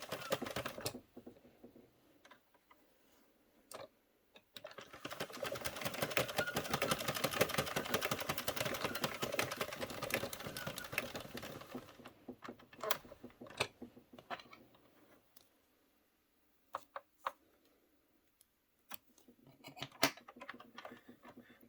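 An Addi/Sentro circular knitting machine knits one round, a fast, steady run of mechanical clicking and clattering close by. Scattered single clicks and taps come before and after the run.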